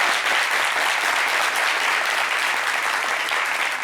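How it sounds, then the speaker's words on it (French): A studio audience at a talk show applauds loudly and steadily, a dense wash of clapping that holds evenly for a few seconds. "On va applaudir pour Ange."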